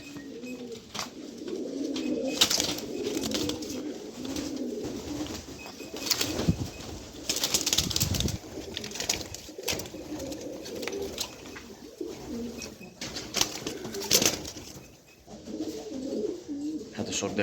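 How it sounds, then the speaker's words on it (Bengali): Two red checker male pigeons cooing in low rolling bursts, with repeated loud flurries of flapping wings, close by, while someone talks over much of it. "এই দুইটা নর কবুতর রেড চেকার।"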